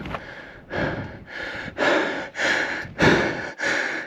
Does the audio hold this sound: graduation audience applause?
no